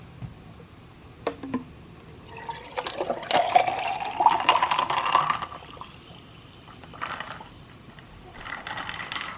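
Sparkling water pours and fizzes into a glass, a bubbling rush that swells then fades, with a few faint clinks beforehand and lingering hiss after.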